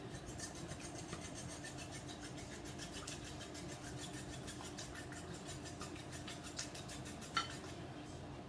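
A small whisk beats eggs in a bowl for egg sandwiches, making a fast, steady, faint metallic ticking and clatter that runs throughout, with no talk.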